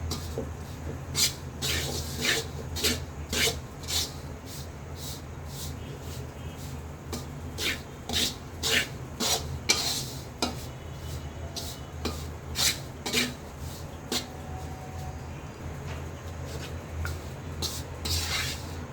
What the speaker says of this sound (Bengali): আমার এটা ভাজতে ভাজতে এখন পুরো লাল হয়ে আসছে, পুরো পাউডার হয়ে গেছে